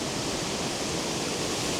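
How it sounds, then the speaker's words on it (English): Small cascade of water rushing down a valley stream at Glendalough, feeding the upper lake; a steady, close, full-bodied roar of falling water with no pauses and no voices. "This beautiful little cascade coming down the valley, which runs down and feeds the upper lake at Glendalough."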